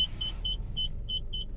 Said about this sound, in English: So it's got parking sensors that do work.